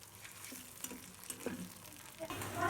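Food cooking in a pan over a low gas flame, a soft steady sizzle with light stirring scrapes and faint clatter, fairly quiet and close.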